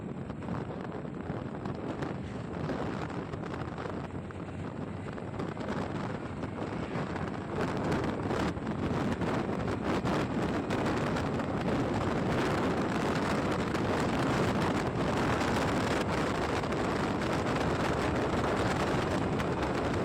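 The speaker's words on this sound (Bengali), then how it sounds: "আজকে স্কুটি নিয়ে বেরিয়ে পড়লাম Activa 6G top speed check করার জন্য।" A Honda Activa 6G scooter is ridden at top speed, around 80, heard as a constant, close rush of wind buffeting that builds and covers the engine throughout.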